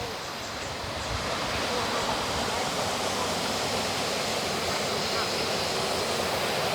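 A strong waterfall in Thailand pours with heavy flow after two weeks of rain, giving a steady, loud, broadband rush that fills the scene continuously without pause.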